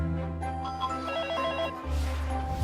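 A home telephone rings in a radio advert with a bright electronic trill that repeats in quick bursts over a steady musical bed. It is loud and clear, with no talk in the clip.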